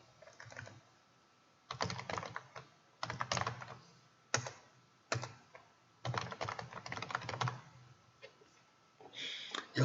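Bursts of typing on a computer keyboard as text is entered into a text box, close and fairly crisp, with clustered keystroke runs separated by short pauses and no talking.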